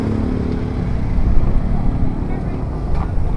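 Strong, cold wind at Caliraya, Lumban, Laguna buffets the microphone in a loud, low rumbling roar that surges and dips for a few seconds.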